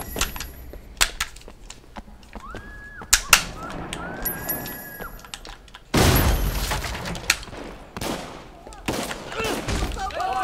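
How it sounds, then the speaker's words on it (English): Sharp bursts of gunfire from the video game Sleeping Dogs: Definitive Edition crack out in clusters, with a few louder blasts and chaotic noise, while voices talk over the action. "This sounds like gunfire."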